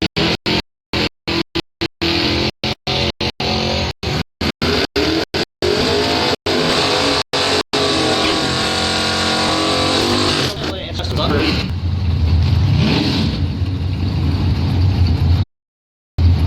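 A Camaro and a Sunbird race down the strip at Northern Michigan Dragway during bracket racing, engines rising to a loud, sustained roar as a track announcer talks over the action.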